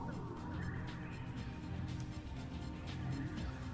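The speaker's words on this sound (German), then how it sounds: "Ach Mensch, das arme Vögelchen, ganz verschreckt." In the Sonic Adventure DX video game, a frightened bird squawks and gobbles against a dense, steady background of game music and ambience, with the calls fairly faint within the mix.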